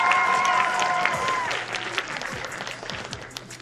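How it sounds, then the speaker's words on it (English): A talent show audience claps and cheers for a performer, an excited round that starts loud with a whoop and gradually thins into scattered claps. "Another round of applause for Tisha Wilson"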